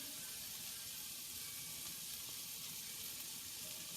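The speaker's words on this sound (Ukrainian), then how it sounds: "Даємо трошки цукру до винограду" Grapes caramelizing with sugar in a hot pan give off a faint, steady sizzle and hiss that runs unbroken throughout, with no voices.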